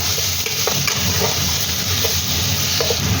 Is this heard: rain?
no